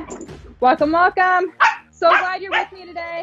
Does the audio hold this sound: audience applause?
no